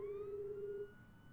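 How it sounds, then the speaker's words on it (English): A police siren wails in the distance in the game Jenny LeClue, one steady, sustained tone that cuts off abruptly after about a second, leaving a faint background hum. "Jenny could hear police sirens in the distance."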